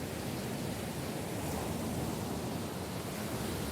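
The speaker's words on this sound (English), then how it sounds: "Oh, white noise generator." Steady, even white noise from a white noise generator in the video game Perfect Tides: a constant broadband hiss like surf, unchanging and uninterrupted throughout.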